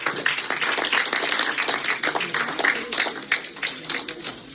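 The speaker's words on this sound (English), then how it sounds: "Please give applause for Florence." A conference audience at an AI summit session in Paris claps for a speaker just introduced on stage, a dense steady patter of many hands lasting several seconds before tapering off.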